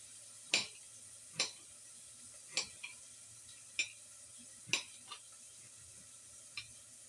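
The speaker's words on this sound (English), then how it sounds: "let me cut that tomato" A knife chops a tomato on a cutting board, leaving a handful of faint, sharp taps spaced unevenly against a quiet kitchen background.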